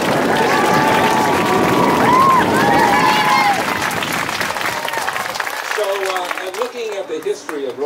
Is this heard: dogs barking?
no